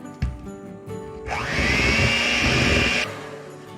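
An electric hand mixer whirs into cake batter as a cup of flour is mixed in for a red velvet cake, revving up into a loud, steady high whine for about two seconds, then cutting off.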